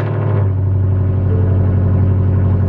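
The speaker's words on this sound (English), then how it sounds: "we're gonna go ahead and restart the vehicle after 10 seconds" A car engine idles steadily right after restarting following an ECU tune install, a close, loud, even rumble with a brief rise at the start.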